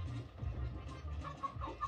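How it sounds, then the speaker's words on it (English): Chicken clucking emote triggered in the online party game Fall Guys, a busy run of short clucks and scratchy fowl noises that carries steadily through the whole stretch at moderate loudness, with no talking over it. "Chicken."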